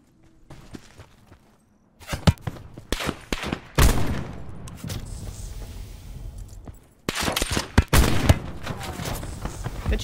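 Rapid gunfire rattles in Call of Duty Blackout, with sharp bursts and single loud shots coming in clusters, close and harsh, separated by short quiet gaps.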